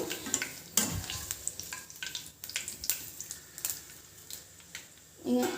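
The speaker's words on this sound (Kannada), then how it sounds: "ಪುದೀನನ ಎಣ್ಣೆಯಲ್ಲೇ ಫ್ರೈ ಮಾಡ್ಕೊಬೇಕು ಗರಿ ಗರಿಯಾಗಿ ಫ್ರೈ ಮಾಡ್ಕೊಳೋಣ" Mint leaves frying until crisp in hot oil, a soft sizzle with scattered stirring scrapes and clinks, close, without any voices.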